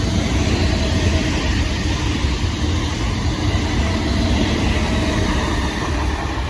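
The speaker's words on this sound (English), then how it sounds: "the next train to pass by will be another pair of SWR" A pair of South Western Railway class 455 electric multiple units passes near Clapham Junction and Battersea Park, a loud continuous rumble of wheels and traction noise that stays steady and close throughout.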